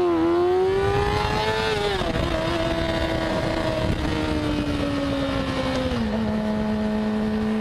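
Yamaha YZF R6 sport motorcycle fitted with an Akrapovic megaphone exhaust, its engine holding a loud, steady high-pitched drone that rises and then steps down in pitch at a couple of points, close by and continuous throughout.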